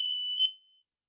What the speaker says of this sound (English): Oh, smoke alarm.